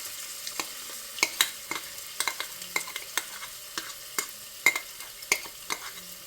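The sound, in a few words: frying cumin and ginger paste in a pan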